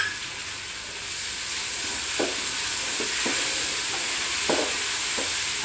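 Garlic paste fries in hot oil in a pan for a mushroom masala curry, with a steady loud sizzle and hiss throughout and several soft scraping stirs of a spoon at intervals.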